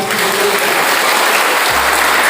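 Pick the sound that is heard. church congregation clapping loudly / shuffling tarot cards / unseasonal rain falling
church congregation clapping loudly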